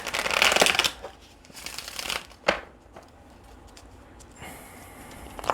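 Tarot cards being shuffled nearby in several quick riffling bursts separated by short pauses, with a soft tap of the deck between them and no talking.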